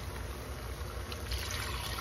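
Water pours into a cooking pot for chicken tinola soup, a steady continuous trickle and splash close by, even in loudness and without speech.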